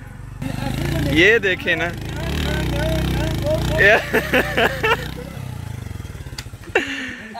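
A motorcycle engine runs steadily in the background, a low continuous drone with some clatter, while people talk loudly over it throughout.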